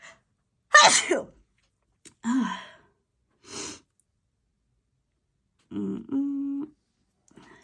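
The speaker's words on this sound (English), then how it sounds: "I'm about to sneeze" A sharp, loud sneeze bursts out near the start, followed by a few softer breathy sniffs and a short voiced exhale, with quiet gaps between them.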